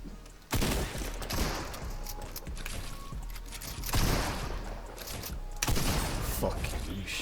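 Rapid bursts of video-game gunfire crackle across a multiplayer arena match, sharp clustered shots breaking off and resuming, with a voice talking in the background.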